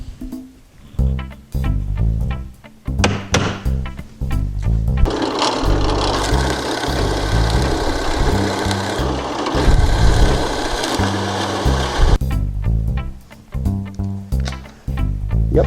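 A drill bores a 3/8 inch hole through wood for a mini quartz clock movement on a wall-hanging grandfather clock, a steady loud whir lasting several seconds, with short machine bursts before and after.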